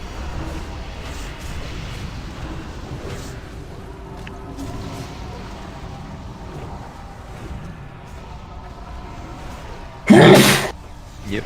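A single sharp, loud human sneeze bursts out near the end over quiet background noise from a game session.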